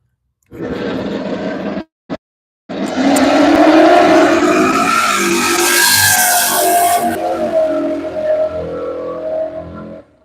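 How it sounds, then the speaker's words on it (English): An LT Camaro launches hard at a drag strip, its engine roaring loud and close after a brief burst and a short gap. The rising, revving roar carries through the run with tire noise, then fades near the end. "Here's the LT Camaro. This thing runs pretty good for LT."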